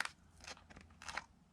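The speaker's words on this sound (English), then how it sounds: "so I'm going to take off this little tape." A small piece of tape peels away during a paper craft project for a balloon card, making several quiet, close, crackly bursts in quick succession with short pauses between them.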